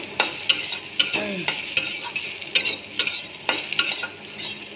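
Masala with added water fries in a pan under repeated stirring: rhythmic, sharp scrapes and clinks of a spoon against metal over a steady sizzle, close and clear, with a brief spoken word.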